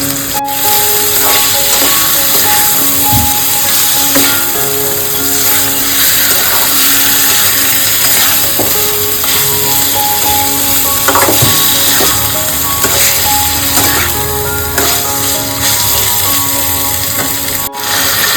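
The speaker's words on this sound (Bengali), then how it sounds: "এই মশলাটাও দিয়ে দিলাম এর মধ্যে। দিয়ে এবার ভালো করে এটাকে নাড়তে হবে।" Marinated chicken pieces sizzling loudly in spices in a pan for chicken vindaloo, a dense steady frying hiss close by with repeated scraping and clinking as the meat is stirred.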